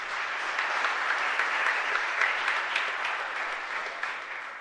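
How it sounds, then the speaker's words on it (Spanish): A church congregation at a Mass in Asunción gives a loud, continuous round of applause, with dense, evenly sustained clapping throughout and no voices over it. "Para todos ellos, un fuerte aplauso."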